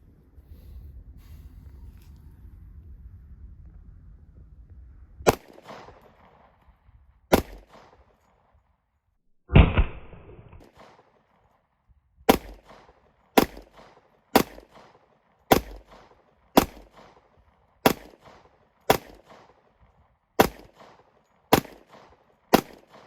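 Smith & Wesson M&P 2.0 10mm pistol firing 230 grain solid hard cast rounds: a string of sharp, loud gunshots, spaced singly and in quick pairs, ringing out over a quiet background after a stretch of low rumble.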